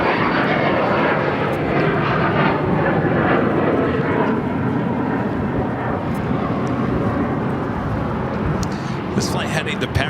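A jet airliner departing Los Angeles LAX for Paris fills the scene with a loud, steady broadband roar that holds for the whole stretch, with faint voices underneath.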